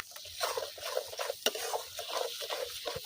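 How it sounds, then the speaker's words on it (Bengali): Tomato paste stirred into sizzling fish curry masala with katla fish and potato in a pan, with repeated scraping strokes over a steady frying crackle, close and fairly loud, one sharp clank midway, no talk. "আস্তে আস্তে নাড়াচাড়া করতে হবে"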